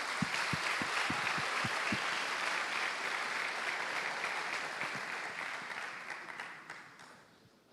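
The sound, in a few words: church congregation applause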